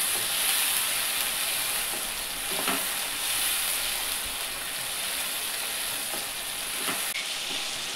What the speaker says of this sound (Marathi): हा मसाला चांगला तेल सुटेपर्यंत त्याला परतून घ्यायचं आहे